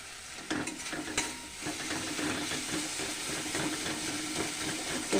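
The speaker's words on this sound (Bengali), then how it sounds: "একটু ভালো করে কষি" Ginger paste fries with cumin paste and crushed garlic in oil, a dense close sizzle broken by a few sharp spoon knocks near the start, then steady stirring and hissing without pause.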